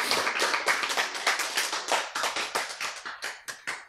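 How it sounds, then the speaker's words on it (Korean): Hands clap in a quick, rhythmic series of sharp, close claps, heard alone and tapering slightly toward the end. "박수야."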